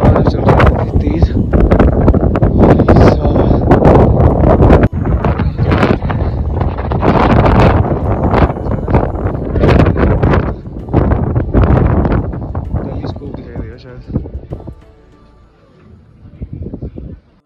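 Strong wind blows at a hilltop astronomical observatory in Hanle, Ladakh, roaring and buffeting the microphone in loud, steady gusts that ease toward the end, with a person talking over it.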